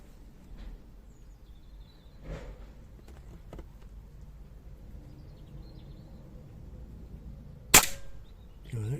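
An air rifle fired at a field target outdoors, a single sharp crack late in an otherwise quiet stretch with faint rustling and soft handling noises before it.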